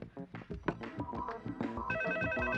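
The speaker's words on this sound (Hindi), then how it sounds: "मैं निक्की को फोन ट्राई करता हूँ।" A telephone rings on an outgoing call, with steady repeated tones in the second half after a stretch of music and mixed sound, loud and close.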